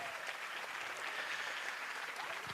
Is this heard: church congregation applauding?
yes